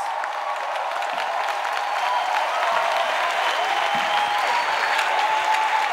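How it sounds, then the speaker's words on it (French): A congregation at a prayer service claps as an offering to Jesus, a steady wash of applause and scattered cheering throughout, with faint voices mixed in. "Clap offering to Jesus."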